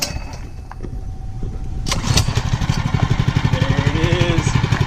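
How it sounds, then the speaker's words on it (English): A Mega Moto 212cc minibike engine is started with the choke on. A few clicks and a short pull come first, then the small engine catches and settles into a loud, close, fast putter. "we're about to get that first start up"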